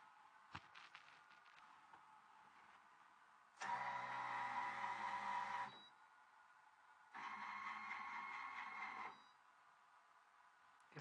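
A Focus Beluga Jet printer makes high-speed, one-way printing passes, heard as two separate bursts of steady mechanical whirring, each about two seconds long, with quiet gaps between them.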